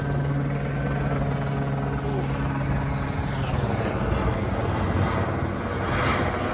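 Helicopter passing overhead in Los Angeles, a steady, loud rotor drone that holds evenly throughout with no break or fade.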